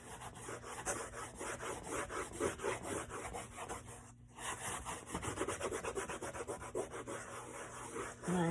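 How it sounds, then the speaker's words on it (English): Plaster being wiped off a gouged surface, a soft, continuous rhythmic rubbing and scraping close by, with a brief pause midway before resuming. "And then just very simply wipe it all off."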